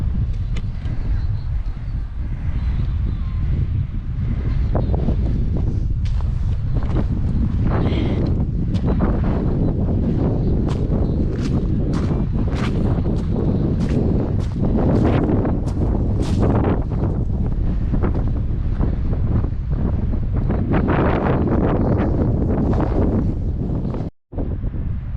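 Strong wind on the Cumbria coast near the sea buffets the microphone in a loud, continuous roaring rush with gusty surges, nearly unbroken until a brief dropout near the end.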